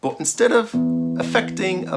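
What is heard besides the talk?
No distinct noise like a dog, phone or traffic.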